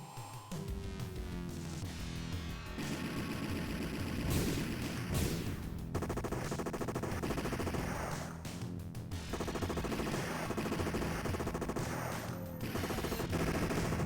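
Gunfire in the shooter Outriders: Worldslayer, with dense bursts of rapid automatic shots and sharp cracks repeating over about fourteen seconds, mixed with crashes and booms, loud and continuous.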